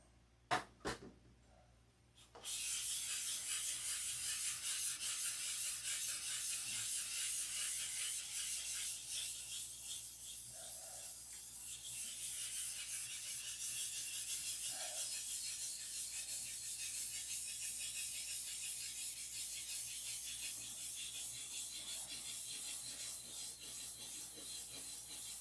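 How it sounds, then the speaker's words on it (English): A model is sanded by hand with steady, continuous rasping strokes, a close, fairly loud scratchy hiss that runs almost unbroken after a few knocks at the start, with no talking. "This is the Zen of sanding."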